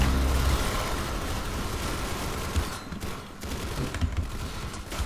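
A laser rifle in the Roblox game Arsenal fires rapid sustained bursts, a dense, loud, continuous volley of shots with brief dips between strings of fire.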